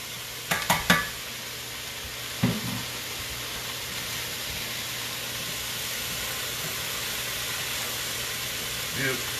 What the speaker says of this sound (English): I'm going to get these mirepoix nice and brown